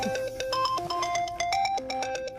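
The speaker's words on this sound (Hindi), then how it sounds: "तेरा फोन बज रहा है।" Mobile phone ringtone plays a bright, repeating melodic pattern of electronic notes, loud and close with no voices over it.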